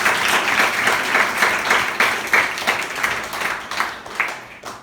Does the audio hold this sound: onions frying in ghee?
no